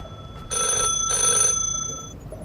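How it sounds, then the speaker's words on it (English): A telephone bell rings in a video game, two clear bursts of ringing, loud and close, with no talk over it. "I hear a phone."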